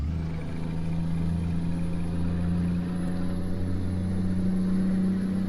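Simulated truck engine from Euro Truck Simulator, a steady low drone with a constant high whine, running continuously at moderate level with no talk.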